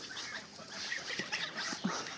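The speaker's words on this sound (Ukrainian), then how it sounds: "А ми женемо вже гусей моїх додому." Domestic geese honking and cackling at a short distance while being herded home, several brief calls scattered over outdoor background noise.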